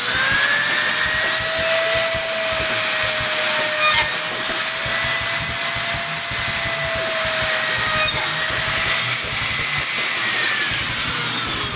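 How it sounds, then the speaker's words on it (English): A power drill whines loudly and steadily as it bores a hole for a Neutrik RJ45 jack, its motor pitch holding nearly constant with slight dips, grinding close up with no talk. "So I need to drill all the way."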